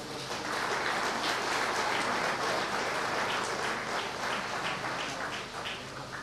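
Audience at a foundation-stone ceremony for business zone infrastructure gives a big, dense round of applause, loud and continuous throughout before easing slightly near the end.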